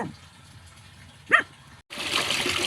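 Water gushes steadily during a water change in a pet catfish tank, starting suddenly near the end after a quiet stretch broken by a single short dog bark.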